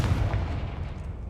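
A fiery Confringo spell blast in the video game Hogwarts Legacy: one loud, booming burst of rumbling fire that carries on steadily and then fades, heard with no talk over it.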